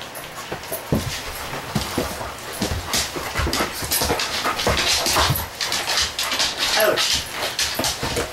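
A dog panting heavily and out of breath, rapid breathy huffs running steadily throughout at close range, with occasional human voice sounds in the background.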